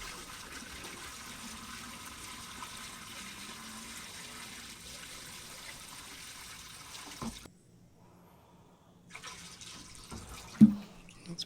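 Water pours from a 2.5-gallon bucket into a 27-gallon hydroponic tote in a steady, close splashing rush that stops for a moment, then resumes briefly.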